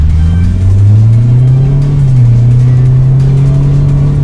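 A loud, deep car exhaust rumbles close by, its pitch rising and dipping as the engine revs, steady throughout with no talking.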